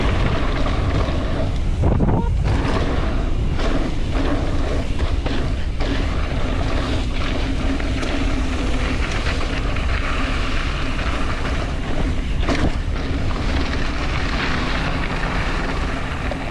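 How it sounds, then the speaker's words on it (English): Strong wind buffeting the microphone in a continuous loud rumble, gusting unevenly throughout with no other clear sounds. "Very windy."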